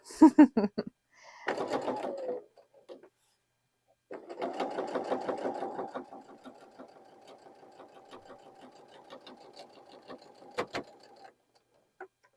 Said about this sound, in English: sometimes needles don't like pushing through all of that fabric at the beginning, as my machine is trying to show you.